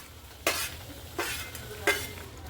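Masala paste with shahi masala sizzles in a pan while a spoon scrapes and stirs it in three distinct strokes, each a short burst of frying hiss over a quiet background.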